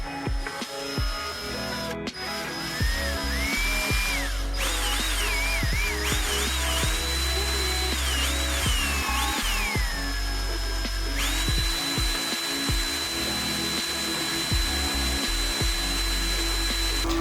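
Cordless drill or screwdriver backing six Phillips head screws out of a JVC MX-GT700 subwoofer, with repeated whirring bursts that rise and fall in pitch, spaced close together, loud and near.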